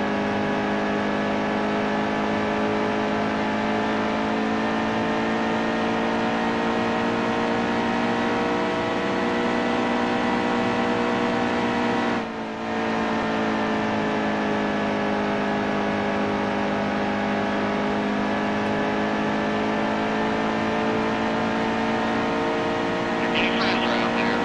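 A NASCAR Heat 2 stock car's engine holds a loud, steady, high-pitched drone through a long lap, dipping only briefly near the midpoint before resuming.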